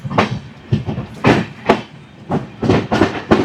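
A Janshatabdi Express train moves on the Konkan Railway in monsoon weather, wheels beating out a clickety-clack rhythm over rail joints in repeated bursts, heard from inside the train.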